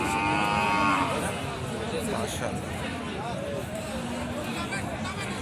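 A Sahiwal bull calf moos loudly near the start amid a noisy outdoor cattle market crowd, with people talking and babbling throughout.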